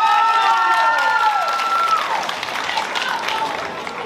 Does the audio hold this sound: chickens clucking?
no